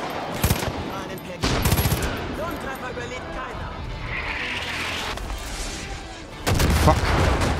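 Gunfire in the video game Far Cry 5: a few bursts of rapid shots, loud and close, separated by a rumbling background, with some talk mixed in.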